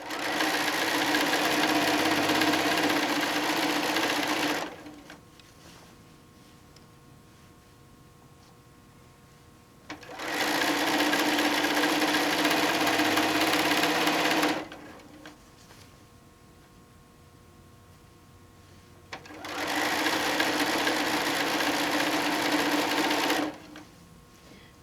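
A sewing machine stitches a quilt seam in three loud, steady bursts of roughly five seconds each, separated by quiet pauses in a home sewing room.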